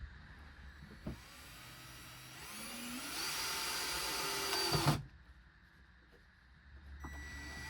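A power driver whines for a couple of seconds as a self-drilling screw is driven into a stud in a van, rising in strain before stopping abruptly, with quieter handling noise around it.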